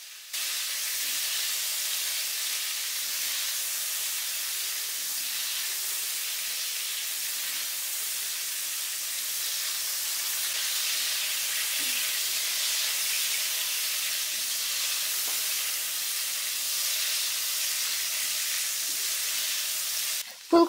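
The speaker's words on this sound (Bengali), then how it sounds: "বেশ কিছু সময় উল্টে পাল্টে ফুলকপি ভেজে নেব গোল্ডেন হওয়া পর্যন্ত" Cauliflower fries in oil while being stirred for a potato and duck egg curry, giving a soft, steady sizzling hiss that stays even and fairly quiet from start to finish.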